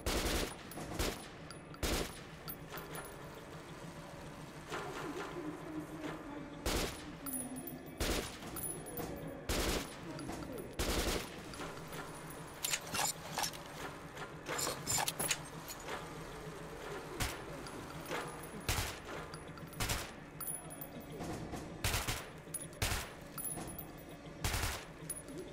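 Gunfire in Metro 2033: repeated sharp shots and short bursts spread irregularly across the span, fairly loud and close, with quieter ambient stretches between them and no talk.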